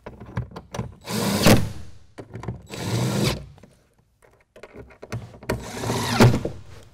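A power drill drives screws into an Undercover swing case toolbox being installed on a Ford F-150 truck, three whirring bursts of a few seconds each with brief clicks and pauses between them, close and fairly loud.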